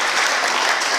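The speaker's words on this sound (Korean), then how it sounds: "우리 애쓰시는 분들을 위해서 우리 박수 한번 할까요?" A church congregation at a mission service applauds the camera crew, a short, loud, dense burst of clapping from many people.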